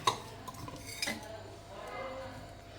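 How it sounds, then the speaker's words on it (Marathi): A spoon clinks and scrapes against a pot while thick colostrum milk is mixed with sugar, masala and cardamom powder for kharvas, with a sharp metallic tap near the start and another about a second later, then softer stirring. "मसाला पूर्ण हे मिक्स करून घेते आणि मग त्याच्यात थोडी थोडी ही वेलची पूड टाकते"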